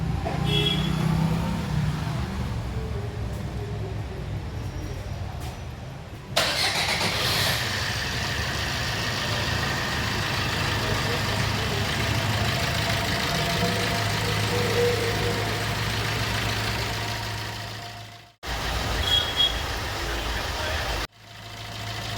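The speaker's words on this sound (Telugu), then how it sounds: "ఫస్ట్ ఇప్పుడు మనం ఇంజిన్ స్టార్ట్ చేద్దాం" A car engine turns over and settles into a steady, rumbling idle that runs on close by, with two short drops in the sound near the end.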